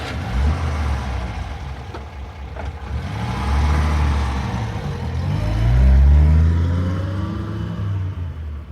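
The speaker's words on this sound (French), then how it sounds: "Je sors la voiture." A car engine starts up and pulls away in a French radio drama, with rising and falling revs as it accelerates, swelling loudest toward the end before easing off, and no voices over it.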